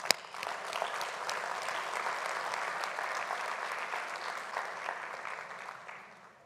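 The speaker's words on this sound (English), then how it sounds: "please join me again in acknowledging their interventions in the usual way with a very warm round of applause" Warm round of applause at a cultural policy conference, a dense, even spread of clapping from a sizable audience that swells quickly, holds steady, then tapers off at the end.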